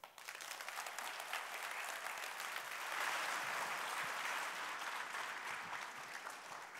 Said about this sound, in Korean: 홍종학 장관님께 다시 한번 큰 박수 보내주시길 바랍니다